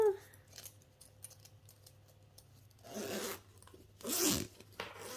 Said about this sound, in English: what you're going to do then is you're going to open your zipper